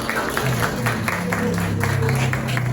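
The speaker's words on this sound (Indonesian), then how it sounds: "Tepuk tangan untuk Yuli." A classroom of students claps briefly for a classmate named Yuli, a dense, fairly loud patter of hands with background murmur.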